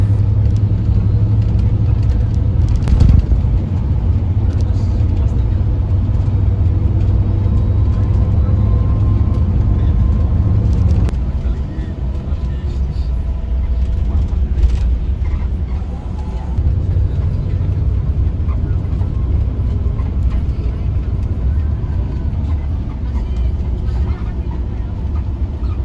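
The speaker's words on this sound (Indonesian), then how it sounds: "Ini armada kita salip kanan kiri, mantap memang ini." An Eka Cepat intercity bus on the Surabaya–Temanggung route driving and overtaking through city streets at night: a loud, constant low engine rumble and road roar that surges briefly as it passes traffic.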